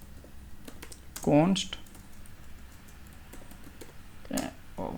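Typing on a computer keyboard while writing code, soft keystrokes running faintly and steadily beneath someone talking close to the microphone.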